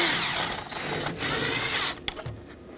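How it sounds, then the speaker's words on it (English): A power tool with a 10 millimeter socket snugs down battery hold-down bolts on a 2013-2020 Nissan Pathfinder, whirring steadily for about two seconds before cutting off, followed by a few faint clicks. "Got a 10 millimeter socket, tighten these both up."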